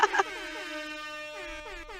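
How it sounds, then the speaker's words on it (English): A brief loud blast opens, followed by a sustained, wavering horn tone that rises and falls, like a played-back air horn sound effect heard on its own. "How many air horns?"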